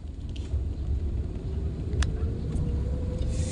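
A car rolls slowly downhill in second gear on the Kallatty ghat road, its steady low engine rumble continuous and fairly loud throughout, with a brief sharp click partway through.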